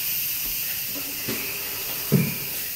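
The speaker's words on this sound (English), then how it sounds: "we're going to go ahead and release the rest of the steam" An Instant Pot vents its remaining steam after cooking a cheesecake, a steady close hiss throughout with a couple of soft knocks and a brief thump, while people talk quietly nearby.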